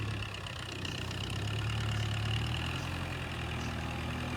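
An old Kubota MU4 farm tractor idles with a steady, continuous engine drone, a low, even rumble held close and alone with no talk.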